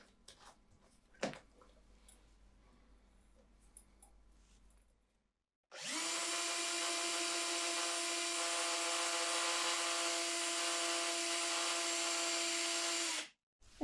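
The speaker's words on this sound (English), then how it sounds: "And with that, I can put it in the drill." A few faint clicks and taps, then a power drill whirs loudly at a steady high pitch for about eight seconds before cutting off.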